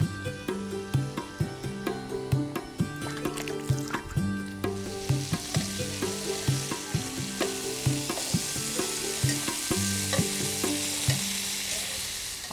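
Dried fish fries with green chillies and curry leaves in hot oil, giving a loud, steady sizzle close by. A spatula taps and scrapes the pan in a regular rhythm throughout, and no one speaks.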